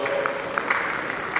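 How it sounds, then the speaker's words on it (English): An audience at a food science conference in Abia State claps together in a dense, steady round of applause, with crowd murmur and a voice mixed in. "A round of applause"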